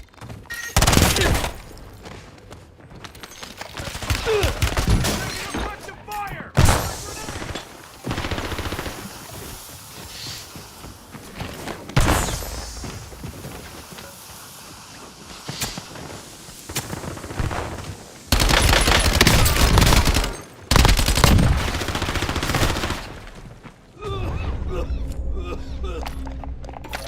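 Gunfire in a first-person shooter video game: loud bursts of automatic fire and single shots come in clusters between quieter gaps, with a voice speaking at times between and over the shooting.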